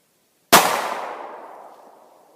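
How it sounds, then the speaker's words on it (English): A single sharp gunshot is fired at a backpack, a loud close crack followed by a ringing decay that fades over about two seconds in otherwise silent surroundings. "Here's the gun. As you can see, it has one round in the chamber. Let's go ahead and shoot."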